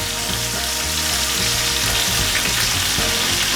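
Steak sears in a pan of melting butter, a loud, dense and unbroken sizzle heard up close, with no one speaking.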